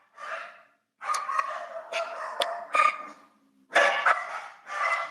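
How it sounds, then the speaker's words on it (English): Several dogs bark in bursts in the background, short sharp yaps with heavy breathing between them and a pause in the middle, and no speech. "Sorry about the dogs in the background"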